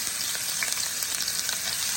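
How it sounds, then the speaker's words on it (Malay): Ground spice paste sizzling and frying steadily in hot oil in a pan for an acar kuning fish dish, a dense continuous crackle with faint stirring, no talking. "Jadi bahan-bahan yang kita kisar tadi kita tumis lah."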